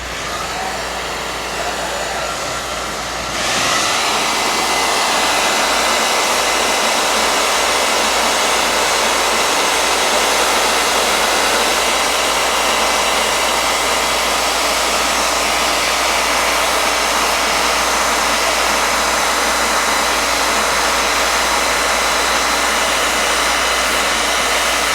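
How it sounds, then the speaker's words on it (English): A hair dryer roars loudly and continuously at close range over a Dutch pour paint pouring, switching on after a quieter start and blowing steadily to the end. "I just don't like how that hair dryer is doing."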